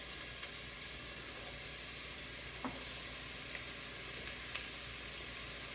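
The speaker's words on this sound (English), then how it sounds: "we're gonna add the trinity of our celery, garlic, and onions into this steaming hot pot" Celery, garlic and onions sizzle in hot olive oil at the bottom of a pot, a steady close frying hiss with a few faint clinks and stirring taps, no voices.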